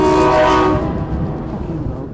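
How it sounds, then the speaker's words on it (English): A train horn blows loud and close in one sustained blast, then cuts off and leaves a low rumble of passing rail cars. "Getting a train to toot its horn's always fun."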